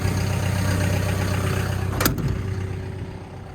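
A freshly serviced vehicle engine idles steadily with a low, constant drone, a brief sharp clatter breaking in partway through before the running note continues.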